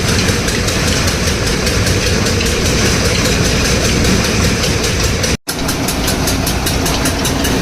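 A tractor-driven opener runs with its engine making a loud, steady mechanical drone that continues without pause, broken only by a split-second cut near the end, with no voices over it.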